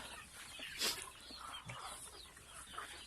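Free-range village chickens on a homemade feed mix of grain and chopped sweet grass, clucking softly and scattered at a distance amid broad outdoor noise, with one brief louder cluck near the start.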